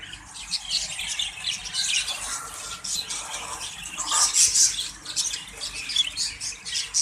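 Exhibition budgies squawk and chirp in a busy, continuous chatter of overlapping calls, fairly close and moderately loud.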